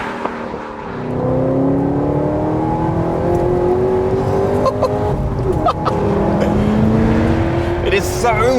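HSV GTS-R W1 V8 engine revving hard, a loud sharp metallic roar climbing through the revs with brief gear-change breaks and faint clicks, sustained for several seconds.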